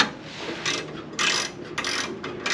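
A hand ratchet tightening bolts on a vehicle skid plate, several short bursts of quick clicking pawl strokes, close and fairly quiet, separated by brief pauses.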